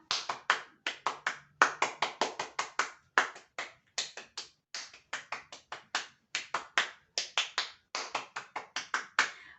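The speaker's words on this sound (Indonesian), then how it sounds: "3 kali tepuk pramuka" Scouts perform the Pramuka clap: crisp, sharp hand claps in quick rhythmic bursts, repeated in three patterned rounds with short pauses between, clear and close in a quiet room.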